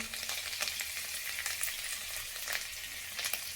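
Spices and two bay leaves sizzle steadily in hot oil as a tempering for a vegetarian shukto dal, a dense close crackling hiss with occasional louder spits and no voices.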